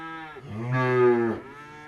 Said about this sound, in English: This isn't just a cow. It's a Highland heifer.